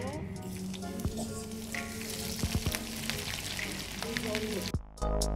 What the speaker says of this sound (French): Pendant que vous faites chauffer votre huile de palme, il ne faut pas le laisser trop longtemps